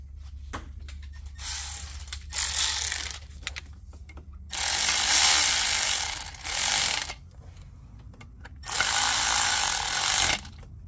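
A hand ratchet tightens bolts on the front timing chain covers of a Mercedes S550 W222 M278 engine, clicking in several rapid close bursts with brief pauses between them.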